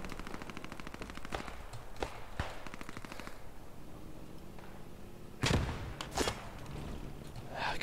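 Gunfire in the video game Post Scriptum, with rapid bursts and single shots, some near and some distant, plus heavier booming impacts in a continuous battle din.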